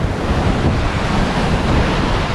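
Ocean waves wash steadily onto Kapu Beach near Udupi, a loud continuous roar of surf mixed with heavy wind buffeting the microphone, with no talk.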